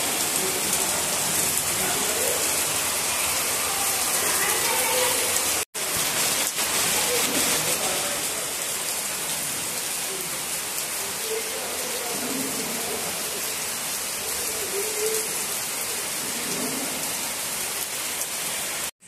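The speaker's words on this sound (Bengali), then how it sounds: "পুরো ঝমঝম করে বৃষ্টি হচ্ছে," Heavy rain pours down steadily, a dense, loud, continuous hiss of drops striking surfaces nearby, with faint voices murmuring beneath it.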